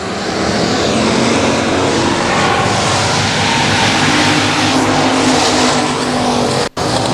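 Race cars roaring loudly and continuously as the field restarts at Boothill Speedway, a dense close engine wall with a brief dropout near the end.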